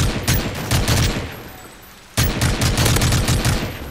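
Automatic gunfire in Call of Duty MW3: two loud, close bursts of rapid rhythmic shots separated by a short pause, with no talking over them.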